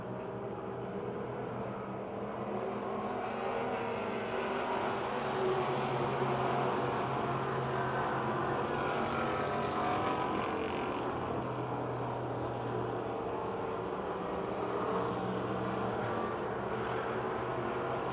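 Race cars at Pennsylvania Motor Speedway roar together in a continuous, distant drone that rises and falls slightly as the pack circulates.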